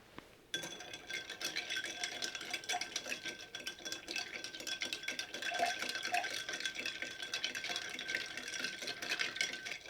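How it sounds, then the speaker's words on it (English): A bar spoon stirs a Manhattan cocktail over ice in a mixing glass, giving a faint, continuous swirling clink and rattle for about nine seconds, close and quiet with no talking. "Now we're going to stir this."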